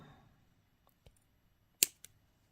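Cutting wire for a Mardi Gras mask necklace: a few faint clicks, then one crisp snip and a smaller follow-up click in an otherwise quiet room.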